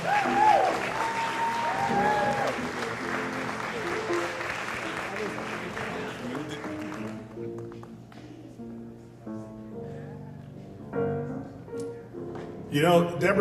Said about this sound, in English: Let's give Deborah Pitts another round of applause